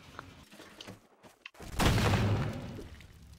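Gunfire in a sandbox ragdoll game: a brief quiet stretch, then a sharp loud burst around the middle that swells into a sustained, rumbling blast fading slowly, with no talking.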